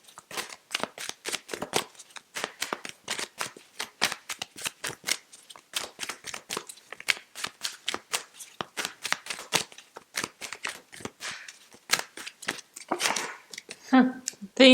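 Tarot cards handled close up in a fast run of crisp papery slaps and flicks, dense and rhythmic, as the deck is shuffled and a card pulled out, with a brief voice near the end.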